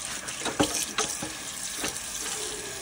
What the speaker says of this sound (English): You just turn on the water and scrub